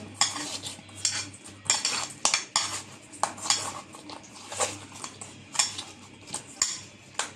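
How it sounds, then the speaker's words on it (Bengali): Fish being mixed by hand or spoon with salt, turmeric and chili powder in a bowl, giving repeated clinking and scraping knocks in an irregular rhythm, close and fairly loud. "লবণ দিয়ে দিলাম হলুদের গুঁড়া মরিচের গুঁড়া মাছটা এখন মেখে নেব"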